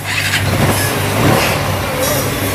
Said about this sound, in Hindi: इसका आरपीएम मैंने बढ़ा दिया है जैसे कि ये आरपीएम को टाइट किया